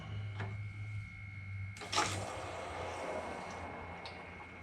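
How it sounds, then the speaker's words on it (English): Water rushes and hisses steadily from a hot water heater drain valve, a broad continuous flow that starts abruptly and stays loud, with a few clanks and a low hum beforehand. "you can probably hear that flowing like crazy"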